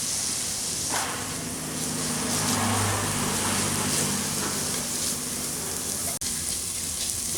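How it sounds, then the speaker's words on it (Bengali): Carrots sizzling and frying steadily in a pan with cardamom powder, a continuous close, even crackle with no talking. "গাজরটাকে হালকা ফ্রাই করার সময় এর মধ্যে দিয়ে দেবো একটু এলাচ গুঁড়ো।"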